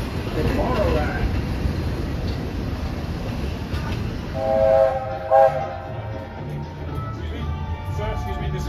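Walt Disney World Railroad steam train rolling along with continuous rumbling wheel and car noise from on board, a bell-like tonal chime in the middle, and people talking over the ride.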